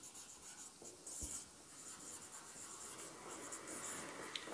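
Marker or chalk writing on a board during a maths lesson, a faint, continuous scratchy rubbing with brief taps, heard in a quiet room with no voices.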